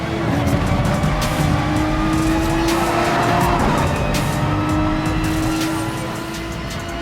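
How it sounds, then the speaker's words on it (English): Race cars in the Gran Turismo racing game brake hard with long tire squeals under a dense engine roar, the pack staying loud and close throughout. "DJ Urban gets on the brakes very early there"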